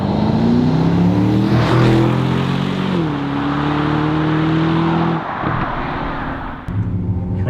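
An Aston Martin DBX engine pulls hard from inside the cabin, a loud, steady rising drone that climbs through gears with brief dips at each shift, no talking over it.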